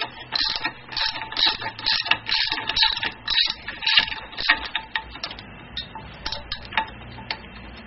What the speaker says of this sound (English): So we've got an Allen socket, a 17, and we'll take this